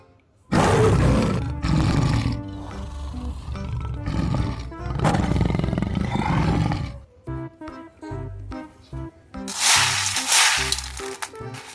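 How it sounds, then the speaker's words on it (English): Tiger roaring, several deep rasping roars in separate bursts, loud and close with no talk, ending in a harsher growling stretch. "This is tiger."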